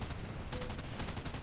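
Rapid machine gun fire in a flight combat video game, a dense burst of closely spaced shots rattling continuously for a second or so, fairly quiet with no talk over it.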